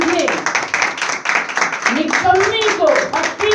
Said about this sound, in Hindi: अभी तालियां आपकी कम नहीं होनी चाहिए प्लीज